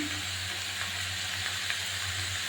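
Cabbage and shrimp frying in a pan give a steady, close sizzle with a soft broadband hiss, and faint scrapes of stirring come through now and then.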